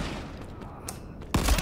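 M1 Garand rifle gunfire in an online shooter game cracks out as a sudden loud burst near the end, following a stretch of softer game ambience and distant faint pops.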